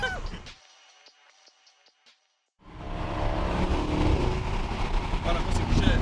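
An Opel car comes along a village road. A short rumble fades to near silence, then a loud, rushing engine and tyre noise swells in and holds close by until the end.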